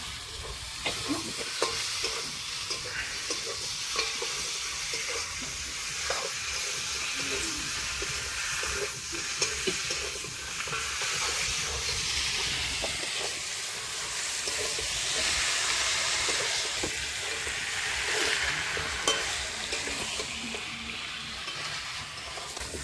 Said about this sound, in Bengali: এখানে মাংস কষানো হচ্ছে